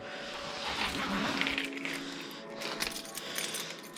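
A set of keys jingles and clinks in a series of bright metallic jangles, moderately close and continuing for several seconds.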